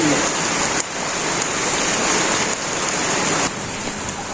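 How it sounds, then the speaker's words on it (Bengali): Steady, loud downpour of heavy rain, a continuous dense hiss with occasional small shifts in intensity. "এই বৃষ্টির মধ্যে এই যে বাইরে প্রচুর বৃষ্টি হইতেছে"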